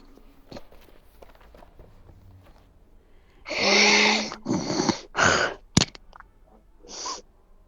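Several heavy, close breaths rush into a microphone in a row, with faint rustling and clicks around them and no speech.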